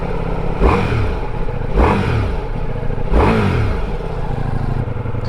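A Ducati Multistrada V4S motorcycle engine revs in three sharp blips, each climbing then falling away, over a steady idle on a cold winter ride; close and fairly loud, with no talk.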